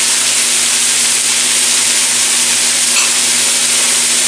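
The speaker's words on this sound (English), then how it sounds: "Just going to put just enough water to create a good amount of steam for it." Mushrooms steam in a pan after water is added, giving a steady, close hiss and faint sizzle that runs unbroken throughout with no speech.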